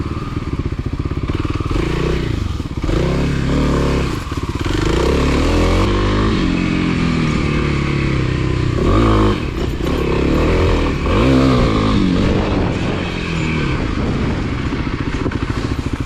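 Kawasaki KLX300 dirt bike ridden on a leaf-covered trail, engine revving and rising under throttle and clutch for wheelies, close and loud with gear-change dips, knocks and clatter from the terrain.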